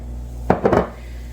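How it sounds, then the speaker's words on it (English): Bacon dropped into a preheated skillet on a stove: a short clattering, sizzling burst partway through, with a couple of quick follow-up rustles, then quiet again. "I'm gonna go ahead and dump in that bacon"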